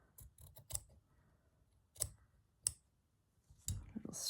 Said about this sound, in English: Just gonna spin it around and trim that fabric there.